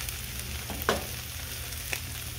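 Breakfast sizzles in a pan on the stove, a steady, faint crackling fry broken by a couple of sharp clinks from utensils, with no speech.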